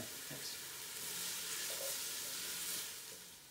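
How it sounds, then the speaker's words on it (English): Celery sautéing with kosher salt in a pan, a steady hissing sizzle that swells slightly and fades near the end, alone without talk. "our celery has been sauteing for approximately about 3 or 4 minutes"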